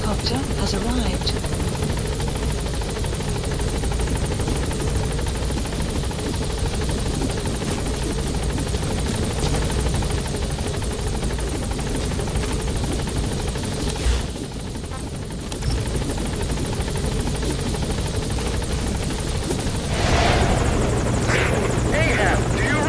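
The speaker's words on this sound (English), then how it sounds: "Support helicopter has arrived." A support helicopter arriving at a landing zone in the video game Metal Gear Solid V: The Phantom Pain, its rotor thrumming steadily and loudly, with a dense engine drone and a brief dip before the noise swells again near the end.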